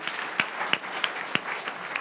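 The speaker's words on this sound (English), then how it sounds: "Let's give a round of applause." Audience applause at a startup pitch event in Atlanta, a soft, moderately distant patter of many hands with a few sharper individual claps standing out, brief and without talk.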